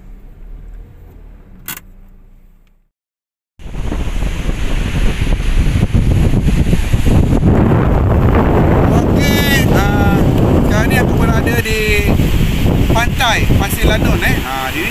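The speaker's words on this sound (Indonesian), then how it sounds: "Wah, ombak kuat ni. Sangat-sangat kuat ombaknya." Strong monsoon-season surf and gusting wind on a beach at Mersing, with a quiet start, a brief drop to near silence, then a loud, continuous roar of breaking waves and buffeting wind on the mic, with someone talking over it.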